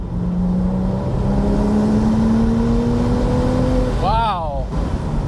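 An original Porsche Spyder engine pulls steadily with a rising drone toward about 5,000 RPM, then a quick rev blip as the exhaust valves open, heard from inside the car under constant road and wind roar while people talk.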